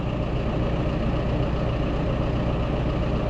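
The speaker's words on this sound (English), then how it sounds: "I just turned the tractor around" A tractor engine running at a steady idle on a cattle farm, a loud, close, low rumble with an even throb that holds unchanged for a few seconds, with no one speaking.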